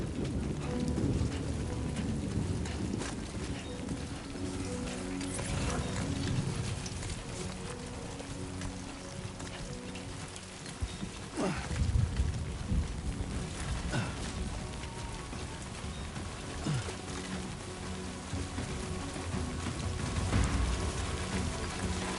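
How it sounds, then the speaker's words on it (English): Steady rain falling in the video game Death Stranding 2, a dense continuous hiss with faint low rumbles, heard alone without voices. "Rain. Gotta move."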